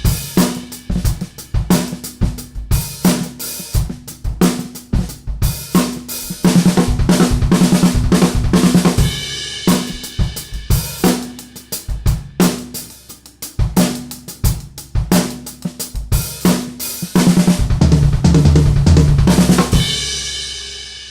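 A drum kit plays continuous fills of single strokes and doubles spread across bass drum, toms and snare, loud and busy with dense rapid hits and brief pauses between phrases.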